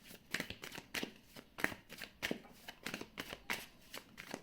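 Tarot cards are drawn and shuffled up close in quick bursts of riffling and papery slaps, about seven of them in an uneven rhythm. The sound is faint and quiet, with no talk over it.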